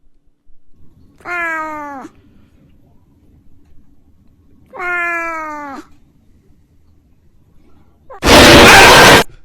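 Two drawn-out meows from a cat, a few seconds apart, followed by a sudden loud bang that fills the whole range.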